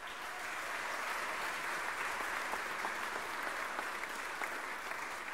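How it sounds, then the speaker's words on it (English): Audience at an international piano competition ceremony in Johannesburg applauds, a sustained, evenly textured clapping that holds steady at moderate volume across the hall. "I think they require a round of applause."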